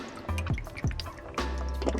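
Water measured into a half-cup and poured for an Indonesian-style soy sauce, heard as close liquid splashing and dripping with a couple of gurgling pours in a small kitchen, short and moderately quiet.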